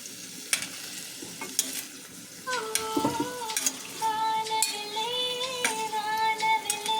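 Paneer frying in a pan over a medium flame, with a steady sizzle beneath repeated stirring and scraping clinks, growing busier and louder in the second half.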